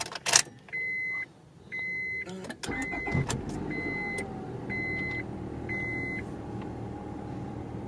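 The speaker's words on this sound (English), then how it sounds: "Let's go ahead and take this car on a test drive" Honda car on a test drive after an automatic transmission rebuild: a key-in chime repeats in regular beeps over a quiet interior, then a clunk and the engine settles into a steady low idle hum.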